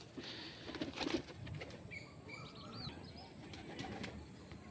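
Pigeons of an old pure-bred line in a backyard loft at dusk: soft fluttering wingbeats around the first second, then faint high chirps and calls over steady low ambient rumble, fairly quiet and distant.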